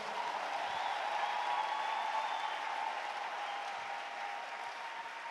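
Sustained applause from a church congregation acclaiming the Lord, a steady wash of clapping and crowd noise that holds fairly loud throughout and eases off slightly toward the end.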